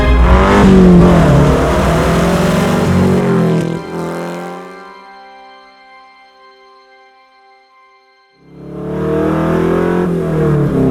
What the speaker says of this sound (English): So this is one of 5 Porsche 906 race cars that was built specifically for the movie Ford v Ferrari.